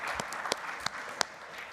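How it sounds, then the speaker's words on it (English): Brief, fairly faint applause from a conference audience for advisory council members, a soft wash of clapping with a few sharper individual claps standing out. "big round of applause for everybody here."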